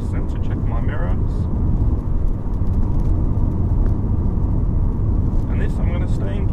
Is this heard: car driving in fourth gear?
yes